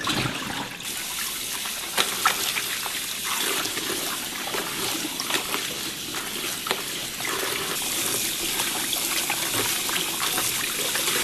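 Salted cabbage pieces being washed under running water in a kitchen for kimchi-style pickles: a continuous splashing, trickling stream with small sloshes and knocks, steady and close throughout.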